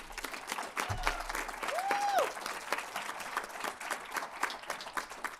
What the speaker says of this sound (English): So I want to give them a round of applause.